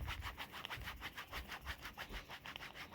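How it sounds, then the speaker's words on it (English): Cranberry ink is rubbed by hand onto a handmade Christmas card in quick, rhythmic back-and-forth strokes, soft and close, with a dry scrubbing texture and no talking. "I'm going to take the cranberry color that I have and rub this on here"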